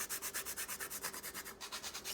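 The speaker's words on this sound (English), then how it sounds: "I'm going to grind a little bit of nutmeg." Whole nutmeg is rubbed against a small grater in a kitchen, giving quick, even rasping strokes that repeat about eight times a second, close and fairly soft, with no talk.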